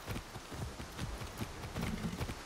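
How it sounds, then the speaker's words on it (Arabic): Horse hooves gallop in Far Cry 6, a steady run of thudding clip-clop beats, fairly close and continuous against light background noise. "اوه واخيرا لقينا حصان"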